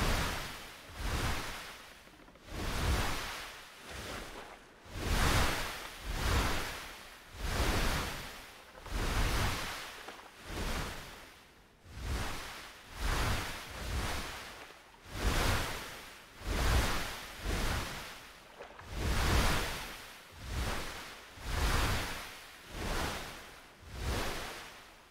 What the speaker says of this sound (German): die ganze Welle macht brutal viel Schaden am Kanu